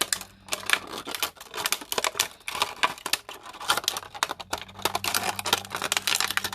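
Scissors snip and crunch through a plastic bottle, cutting it into a spiral in a series of quick, crinkly cuts with short pauses, close and fairly loud, with a faint low hum underneath.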